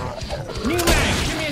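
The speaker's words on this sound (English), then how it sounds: "Give me a sec, I'm reloading." Weapon reload in Killing Floor, played on the Waterworks map as a Firebug: mechanical clacks and a rising metallic slide sound over busy game noise and background voices.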